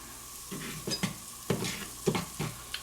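Butter being spread around a preheated omelet pan set just under medium heat, with a handful of short scraping strokes and a faint sizzle. The strokes come in an irregular rhythm, close and fairly quiet.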